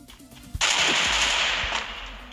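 Rapid automatic gunfire in the Free Fire battle royale game, a sharp burst that starts abruptly and continues as a loud, sustained rattle of shots up close.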